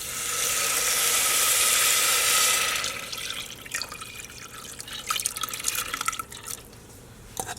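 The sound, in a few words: water poured into pot with lentils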